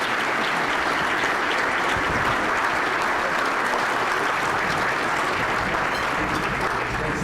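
A luncheon audience at a State of the City event applauds the mayor, Jim Langfelder, as he is introduced, a dense, continuous wash of many hands that holds at an even level throughout with no speech.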